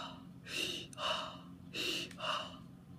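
A voice performs heavy, deep panting for a monster character: two pairs of loud, breathy inhale-exhale gasps, close and alone, with short pauses between.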